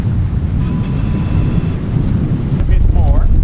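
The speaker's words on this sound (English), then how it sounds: "the wind's picking up" Strong wind sweeps across an ocean-going double canoe under reefed sail with a staysail at sea: a loud, steady roar of gusting air and microphone buffeting with faint water wash.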